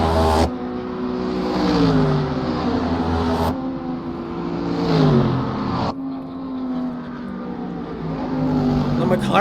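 GT World Challenge race cars, McLaren among them, scream past at the Dutch Grand Prix, their engines rising and falling through rapid gear shifts as several cars sweep by in turn, loud and close, under running commentary.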